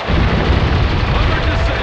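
Heavy weapon fire aimed at a Hummer in the video game Spec Ops: The Line, a loud, dense roar of blasts filling the whole moment, close and continuous with no pauses.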